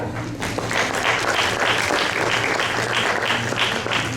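A room full of people applauding, a dense sustained patter of clapping at moderate loudness without a break.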